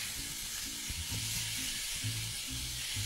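Porohok cooking off in oil in a pan, a steady close hiss of frying with low rumbling bumps from stirring beneath it.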